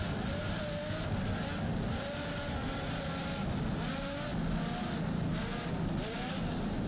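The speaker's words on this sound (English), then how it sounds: "Just listen to those Lamborghini power plants." An offshore racing powerboat driven by two 920-horsepower Lamborghini engines roars at the Miami Offshore Grand Prix, a loud continuous engine drone with rising and falling pitch sweeps and water rush throughout.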